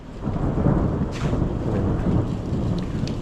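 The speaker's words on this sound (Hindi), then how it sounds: "अब धीरे धीरे बारिश यहाँ आई है" Steady rain arriving over the Uttarakhand hills, a broad continuous wash of falling water with a low rumbling undertone, no voices.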